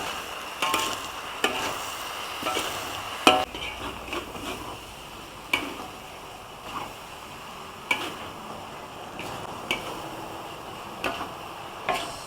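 Pad see ew noodles with oyster sauce being stir-fried in a pan, a soft background sizzle punctuated by sharp, evenly spaced clicks and scrapes of the spatula against the metal, close but moderately quiet.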